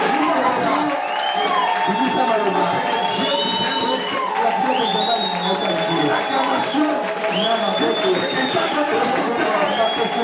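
A church congregation cheers and shouts with joy during a worship service, with whoops and high cries over a dense, continuous crowd roar. Voices mingle throughout at steady loudness.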